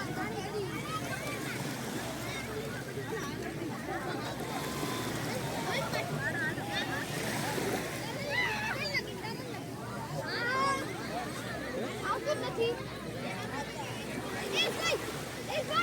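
Sea waves wash onto Hathab beach near Bhavnagar, where children are bathing in the surf, a constant roar mixed with wind buffeting and people talking nearby.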